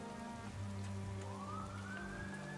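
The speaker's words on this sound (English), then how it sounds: "A siren blares" A siren in a scene from the game Goddess of Victory: Nikke, rising and wailing over steady rain and a low droning hum, fairly faint and distant.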